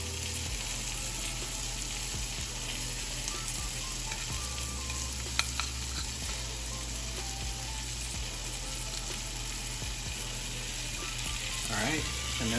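Mushroom steak fries on a skillet with a steady close sizzle. Occasional clinks and stirring noises rise briefly over it, with no talking.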